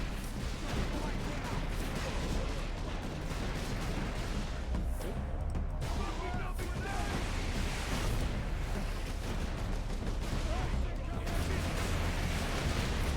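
A lascannon fires in Warhammer 40k Space Marine amid a dense, loud battle of blasts and heavy gunfire that runs on without a break, and someone talks over the din at times.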